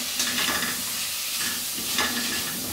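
Vegetarian ackee and blackeye beans being stirred and folded in a hot pan, a steady loud sizzle with soft scraping strokes of the spoon, close up and without talk.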